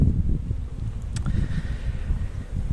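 Wind buffets the microphone in low, rumbling gusts throughout, a steady roar close up with no voices.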